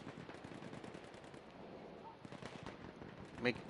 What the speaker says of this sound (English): Whose tank is that I hear? That is Rag's tank watching the street.